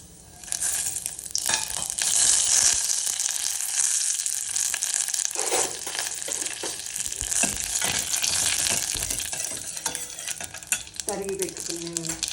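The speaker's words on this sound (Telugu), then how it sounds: "ఒక చిన్న స్పూన్తో 2 స్పూన్లు కోకోనట్ ఆయిల్, తర్వాత ఈ మసాలా దినుసులన్నీ వేయించాలి" Whole spices fry in two spoonfuls of coconut oil for a vegetable soup, giving a loud, dense, continuous hiss and crackle close up, with occasional spoon scrapes against the pan.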